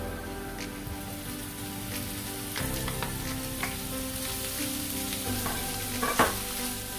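Chicken is stirred into softened onions with black pepper and salt and fries in a pan, giving a continuous close sizzle. Scattered clinks and scrapes of the utensil stand out, with a louder knock near the end.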